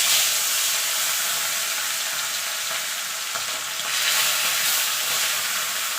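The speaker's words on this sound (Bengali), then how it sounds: "মাছগুলোকে আমি এপিট ওপিট করে লাল লাল করে ভেজে নেব" Rohu fish pieces fry in hot oil in a pan, giving a loud, continuous bright sizzle and hiss that swells slightly partway through, with no talking.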